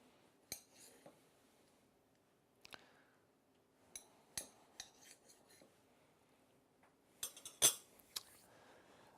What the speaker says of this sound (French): une fois qu'on l'a coupé en 2, on va les couper en 4